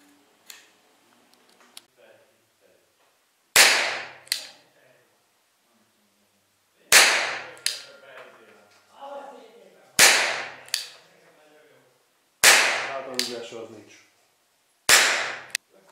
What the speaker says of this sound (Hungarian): Ott van 5 lövés single actionben.